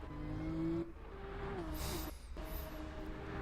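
Porsche Cup race cars in the iRacing video game drone past with high-revving engines, pitch rising and falling through gear changes, with brief tire squeals over a continuous loud engine roar.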